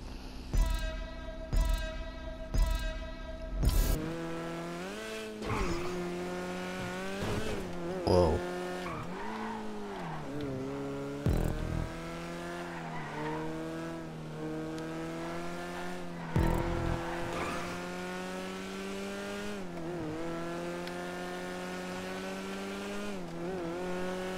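A Karin 190Z sports car in GTA 5 drives hard. The engine note climbs and drops steadily through repeated gear shifts, with a few sharp revs early on. It is loud and close throughout, with no talk.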